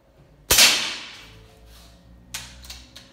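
A single sharp air rifle shot from a customized carbine with its adjustable valve removed cracks loudly and decays quickly, followed by a couple of fainter clicks and taps.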